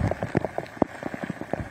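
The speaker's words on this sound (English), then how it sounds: "we have seen these bands of rains come and go, and right now they're coming down all over this area" Heavy rain driven by wind at Ocean Isle Beach during a storm, a steady wash of drops pelting surfaces with irregular louder spatters throughout, close and fairly loud with no voices.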